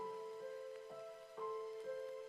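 Rain falling steadily, with soft pattering drops over a faint, sustained tonal hum in a quiet setting.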